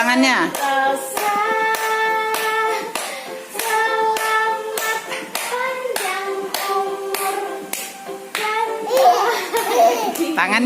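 A baby boy claps his hands repeatedly in a steady rhythm, each clap sharp and close, while someone talks and coaxes him and the child babbles and laughs along.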